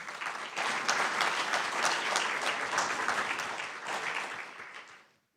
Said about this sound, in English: So let's give all these elected officials a round of applause.